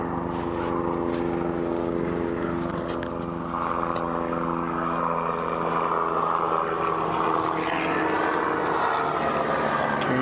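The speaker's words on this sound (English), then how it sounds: "Maybe just hear a helicopter flying over us" A Kruger National Park helicopter flies overhead, its steady engine drone and rotor hum holding throughout, with a pitch that slides as it moves past in the open bush.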